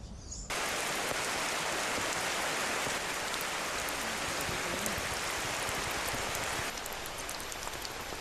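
Heavy rain starts suddenly and pours down in the rainforest, a dense, steady hiss of drops striking leaves and ground that stays loud throughout.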